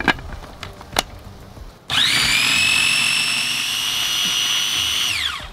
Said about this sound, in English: at this point, we're gonna go ahead and blitz it up